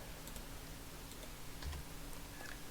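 Quiet computer keyboard typing at a desk, soft irregular key clicks scattered through the moment with no talk.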